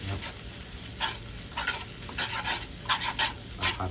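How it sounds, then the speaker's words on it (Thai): Rice noodles for pad thai being stir-fried in a pan, with a steady low sizzle broken by repeated scraping strokes of a spatula at an uneven rhythm, close by and moderately quiet, no voices. "เอาเส้นไปผัด แบบนี้เลย ครับ เส้นแล้ว ก็ ผัดผัดไปเลยครับ"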